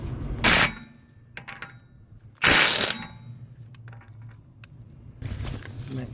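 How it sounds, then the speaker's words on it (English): A ratchet tightens the rear axle nut on a 2015-2018 Hyundai Genesis during a wheel stud job, giving two loud, close bursts of rapid clicking with quieter metallic rattles and handling noises between them. "I'm going to tighten this axle nut up."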